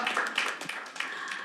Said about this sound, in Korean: 여러분 박수로 좀 맞이해 주시죠